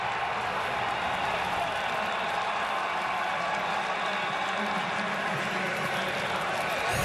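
A stadium crowd at a UFL football game, Houston Roughnecks at Michigan Panthers, roars and cheers in a steady, dense wash of noise from start to finish, rising slightly at the end.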